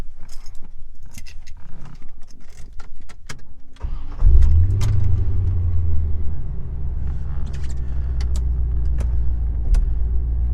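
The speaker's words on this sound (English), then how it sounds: "Let's start the car up and see if the saga continues with the climate control." A 1989 Chevrolet Corvette C4 cranks amid clicks and key jangling, then its engine catches with a loud surge and settles into a steady, close, rumbling idle.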